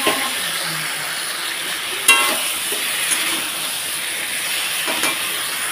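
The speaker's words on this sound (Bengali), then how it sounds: "এখন ভালোভাবে আলতো করে কষিয়ে নিচ্ছি" Fresh garden eggplant vegetable curry gently sautéed with spices, a steady hissing sizzle throughout with a couple of brief sharp clinks of a spoon against the pan.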